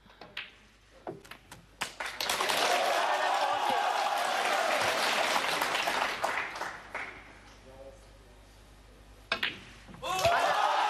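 A snooker crowd at a tournament in China breaks into sustained, loud applause after Ronnie O'Sullivan completes a 147 maximum break against E Slessor, clapping swelling for several seconds, easing, then briefly surging again near the end.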